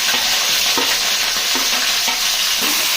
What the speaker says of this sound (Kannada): ಅದನ್ನು ನೀಟಾಗಿ ಫ್ರೈ ಮಾಡ್ಕೋಬೇಕು ಇಲ್ಲಿ ಈರುಳ್ಳಿ ಕೂಡ ಸೇರಿಸ್ಕೊತಾ ಇದ್ದೀನಿ